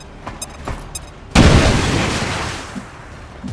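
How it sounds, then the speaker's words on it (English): A grenade goes off in XCOM 2: a sudden loud boom that hits hard, then a long rumbling tail that fades slowly. A few faint clicks come before it. "Grenade out!"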